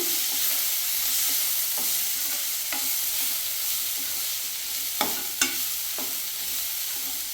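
Beetroot palya with grated coconut being stirred in a pan, a soft steady sizzle with occasional scraping strokes of a spatula and a couple of louder knocks.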